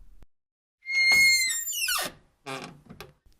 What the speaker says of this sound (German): The door squeaks.